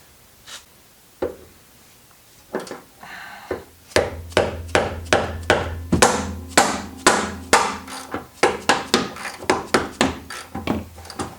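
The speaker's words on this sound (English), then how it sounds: "Now what you're going to do is break loose these A-arm bolts." A wrench or breaker bar is struck repeatedly to break loose 17 mm front A-arm bolts on a Honda S2000. Sharp metallic knocks start sparse, then come in a fast, steady series, close and loud.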